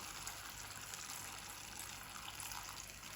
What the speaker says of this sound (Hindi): जो चने का पानी था ना, वो ही हम इसके अंदर ऐड करेंगे